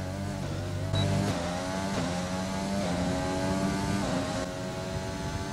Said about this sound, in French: Avec le nouveau moteur Honda.